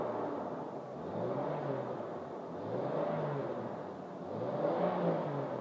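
A Jeep Cherokee engine runs smoothly at a steady idle, a continuous low rumble and whir with gentle rises in revs, close by and with no knocking or ticking.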